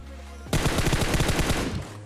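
Rapid automatic gunfire in a video game, a single dense burst of about a dozen loud, close shots in quick rhythm that starts abruptly and runs for over a second before cutting off.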